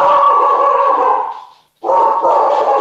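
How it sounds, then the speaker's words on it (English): A dog barks loud and close in two long sustained bursts separated by a brief pause, with no speech over it. "Yes, dog."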